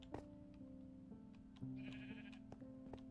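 Video game sheep bleat in a wooly pen area, a few quiet cartoonish calls over soft background music and effects.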